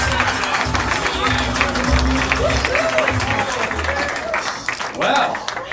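Applause from a live show audience, moderately loud clapping spread across the clip with crowd murmur and a voice talking over it.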